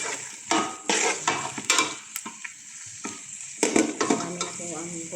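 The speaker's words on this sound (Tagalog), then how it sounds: "igisa lang po natin yung medyo pumula-pula ang chicken wings" Chicken wings sautéing in a hot pan, a steady sizzle with repeated scraping stirs and occasional clinks of a utensil against the pan, close and clear with no talking.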